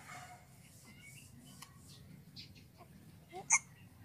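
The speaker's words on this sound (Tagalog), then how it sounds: "hindi pa rin nawawala yung sinok ni baby" A baby's single small hiccup stands out once near the end, brief and fairly close, over a quiet room with faint background noise.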